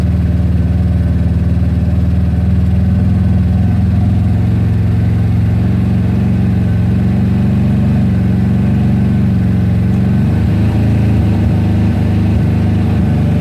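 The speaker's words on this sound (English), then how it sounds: "This is throttling when I'm actually pulling downward or counterclockwise." GY6 scooter engine running close and loud throughout, a steady low idle that lifts into a rougher, higher rev toward the end as the throttle is twisted, with no talking.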